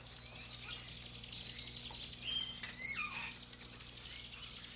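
A voice imitates a flip-wing Zanzibar bird with faint, high chirps and whistling warbles over a low background hum, rising briefly in the middle.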